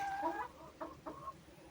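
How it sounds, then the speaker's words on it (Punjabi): Chickens cluck nearby among scattered feed grain, a few short rising clucks in quick succession over a quiet background. "ਆ ਇਧਰ ਫਿਰਦੇ ਕੁੱਕੜ ਸਾਰੇ"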